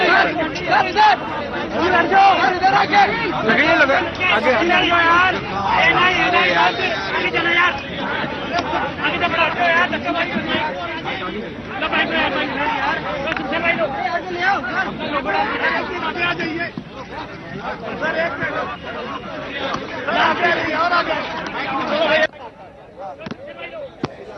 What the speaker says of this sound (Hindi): तो भीड़ काफी ज्यादा है, थोड़ी मशक्कत करनी पड़ रही है।